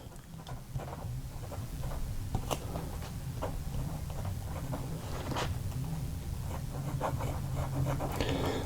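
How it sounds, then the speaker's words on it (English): A Jinhao 159 fountain pen nib scratches across paper in short strokes with faint ticking and scraping, quiet and very close, with no talking. "this is the first time I've touched nib to paper, so let's see how this works"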